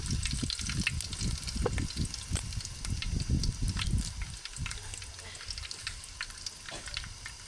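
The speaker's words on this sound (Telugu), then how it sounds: "కొంచెం కరివేపాకు వేసుకొని అన్నీ మంచిగా ఫ్రై అయిన తర్వాత" Chillies, garlic and curry leaves fry in a pan of hot oil for a village-style green chilli chutney, giving a steady close sizzle and crackle with occasional stirring scrapes and brief pops throughout.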